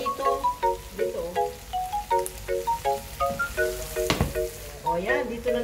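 Leftover rice goes into a small, hot frying pan, crackling and sizzling loudly up close, with a sharp clatter midway and a brief voice in the background.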